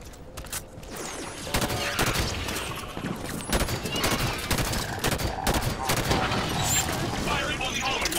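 Halo 5 combat fills the air with rapid bursts of automatic gunfire and scattered blasts, continuous and dense, with a voice speaking over the shooting.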